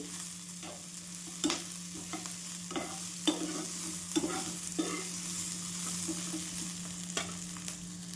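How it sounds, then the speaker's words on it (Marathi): Green chillies roast in a hot pan, a steady low sizzle broken by regular scraping strokes and light knocks as they are stirred, with no talking. "मिरची पण आपल्याला छान डाग पडेपर्यंत भाजून घ्यायची"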